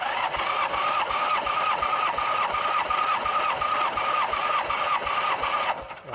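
A Honda GL1200 Gold Wing engine cranks steadily on the starter during a compression test, with a fast, even rhythmic churn that runs loud and close for about six seconds before cutting off.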